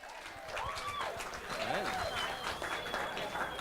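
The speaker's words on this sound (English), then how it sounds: "How about a round of applause?" Wedding reception guests applaud in a steady broadband clapping wash that holds for about three seconds, with a voice and some tonal sounds running over the top.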